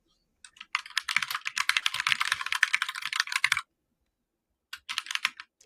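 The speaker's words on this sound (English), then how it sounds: "As Andrew thinks on his keyboard" Computer keyboard typing in a podcast-style crypto show setting, a dense run of rapid clicky keystrokes for about three seconds, a pause, then a shorter second burst, fairly close and with no voice over it.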